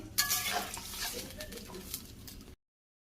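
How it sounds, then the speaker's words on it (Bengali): Paneer cubes frying in a pan in a home kitchen, a bright crackling sizzle with utensil stirring and scraping close by, steady for a couple of seconds before cutting off. "আর এখানে পনিরটা ভেজে নিচ্ছি।"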